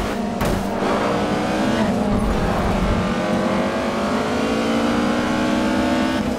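BMW and Mercedes race cars roaring around the Red Bull Ring in the GRID 2 racing game, engines loud and close with rising revs and gear changes, a sustained, dense drone with no voices.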